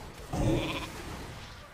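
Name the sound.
sheep bleat from video game polymorph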